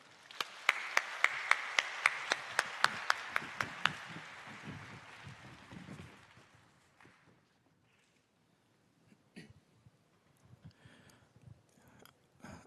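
A church congregation at a Sunday service claps in welcome, a brief burst of fairly faint applause with a few sharper individual claps, dying away into quiet room sounds and light shuffling.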